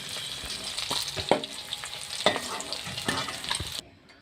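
Pieces of hilsa fish fry in hot oil, giving a steady close sizzle broken by a few sharp clicks as they are turned in the pan, ending abruptly.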